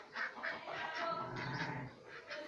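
Large domestic ducks quack as they eat chopped green onion. Their nasal calls come in a busy, overlapping stream, near and continuous.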